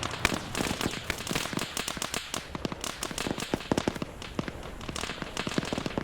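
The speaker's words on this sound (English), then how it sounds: "You're hearing the tank, it's turned over, it's actually firing." Gunfire from an overturned tank in the video game Arma 3: rapid, irregular cracking bursts that continue throughout at moderate distance, sounding like a string of firecrackers.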